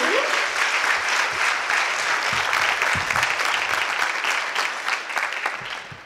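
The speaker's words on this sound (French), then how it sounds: "M. Herbert et M. Jean-Marie Joseph que je vous demande d'applaudir s'il vous plaît." An indoor audience at an award ceremony applauds, a dense, sustained clapping from many people that holds steady and then begins to thin out toward the end.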